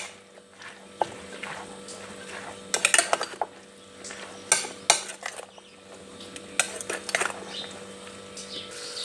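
Eggs being mixed into a batter in a bowl, a utensil clinking and scraping against the bowl in quick bursts separated by quieter pauses.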